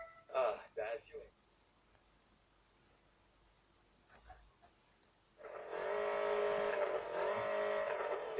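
Lancia Delta driving in Test Drive Unlimited 2 during a slalom license exercise: a few clicks and a brief voice early on, then a loud, steady engine drone takes over for the last few seconds.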